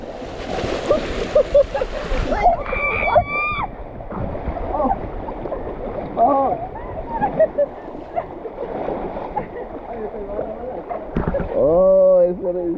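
A canoe splashes and rocks through the fast current of a river at San Cipriano, Colombia, with steady rushing water throughout. Excited voices talk and exclaim over the splashing, and one shout rises near the end.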